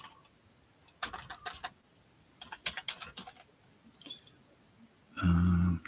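Keys on a computer keyboard tap in short irregular bursts, close and fairly quiet, followed by a loud electronic buzz at the end.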